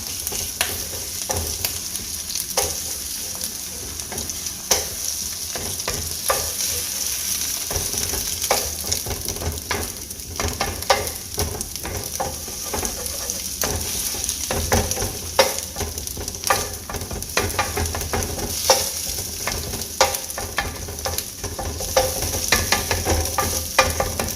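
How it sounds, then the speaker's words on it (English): Eggs fry in butter in a pan beside vegetables for keto fried rice, a steady close sizzle broken by frequent scraping stirs throughout, with no one speaking. "So now that the eggs are starting to turn white on the edges, I'm going to start mixing it up in the pan now."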